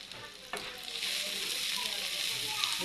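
Green chilies hit a hot pan with meat, and a bright sizzle swells after a sharp initial crackle, holding loud and steady with light stirring.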